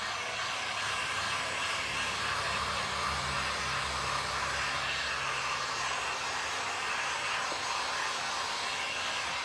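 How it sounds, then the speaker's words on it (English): A heat gun blows steadily over epoxy on a DIY tray, a constant, fairly close airy roar with no breaks or voices. "make sure that you get your heat gun"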